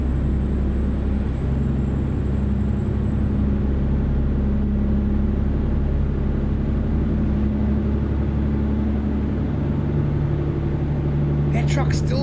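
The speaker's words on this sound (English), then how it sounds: "That truck still seems a little loud to me." Steady low truck engine drone while driving in the game American Truck Simulator, loud and unbroken throughout with little change in pitch.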